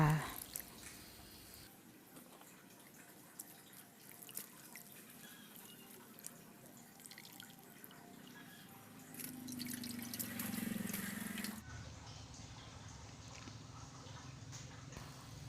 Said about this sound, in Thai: มาล้างน้ำให้มันสะอาดก่อนนะจ้า ล้างไปเลยค่ะ